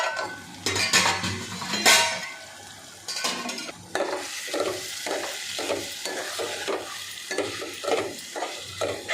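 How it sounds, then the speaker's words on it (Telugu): Potato pieces fry in oil in a pan, a close sizzle broken by repeated clinking scrapes of a metal spoon stirring in an uneven rhythm, with no voices. "ఆలుగడ్డ నూనెలో మంచిగా ఫ్రై అయిందండి."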